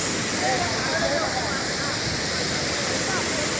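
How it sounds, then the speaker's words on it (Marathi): A waterfall at Kondeshwar temple roars steadily and loudly, a dense unbroken rush of falling water with voices faintly present beneath it. "इकडे धबधबा फुल"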